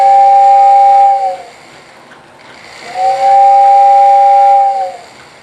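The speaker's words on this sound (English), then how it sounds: "On a cab 1 remote, I hit the whistle button and my air whistle will sound." A model train tender's air whistle, triggered from a Cab 1 remote on a TPC track power controller, sounds two loud, steady chord-like blasts about a second and a half each, separated by a brief hissing gap.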